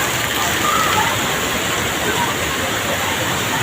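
Heavy rain and flood water fill a street along Commonwealth, a steady, dense wash of noise holding at even loudness throughout with no clear individual splashes.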